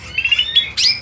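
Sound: songbird chirping at a bird market stall

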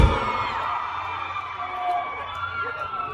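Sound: crowd of women screaming at a metal concert

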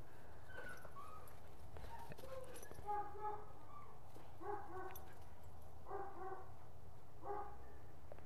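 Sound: dogs barking, including a Malinois

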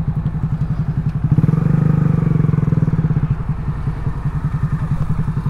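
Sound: Honda Grom motorcycle riding

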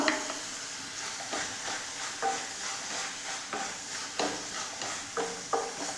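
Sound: stirring beetroot date pickle with turmeric and chilli powder

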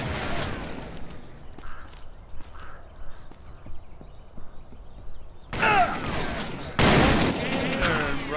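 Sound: gunshots from the video game Call of Juarez: Bound in Blood

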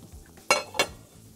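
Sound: stirring green onion, coriander and parsley in a pan

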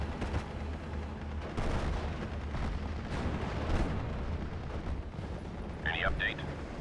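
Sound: artillery firing in Steel Division: Normandy 44 video game

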